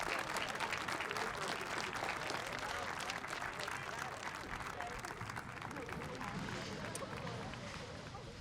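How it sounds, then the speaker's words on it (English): Steady applause from a crowd at a school moving-on ceremony fills the whole stretch, dense clapping at an even level with a slight fade near the end. "one last round of applause."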